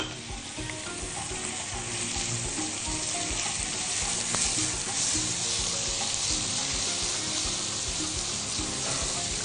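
Rice and onion stuffing sautés in a hot pan, a dense steady sizzle with occasional stirring scrapes, close and loud, with no voices.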